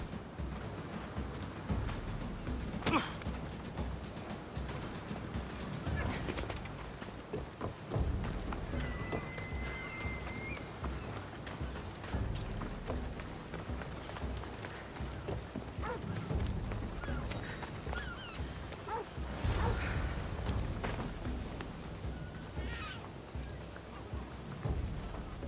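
Horse hooves galloping in Assassin's Creed Odyssey, a continuous rhythmic clip-clop running throughout with occasional louder thumps, game sounds around it.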